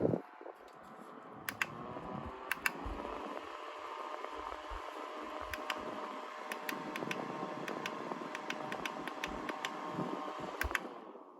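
A small USB rechargeable fan powered by a new lithium-ion battery hums steadily at close range, its even whir broken by scattered sharp clicks and taps as it is handled.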